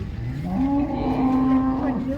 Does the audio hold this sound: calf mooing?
yes